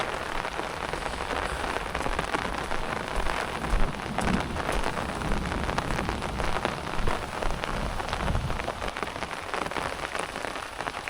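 Rain falling over green crop fields around a village, a steady close patter of drops on surfaces with a dense even hiss, lasting throughout without speech.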